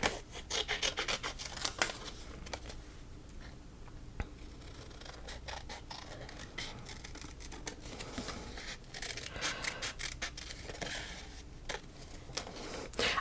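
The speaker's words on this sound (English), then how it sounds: "I think I'll start by getting rid of a lot of that excess so I have more room for my scissors." Scissors snip and rustle through paper while fussy cutting card pieces at a craft table, a quiet, continuous run of close crisp cuts and paper rubbing with small sharp snaps, no voices.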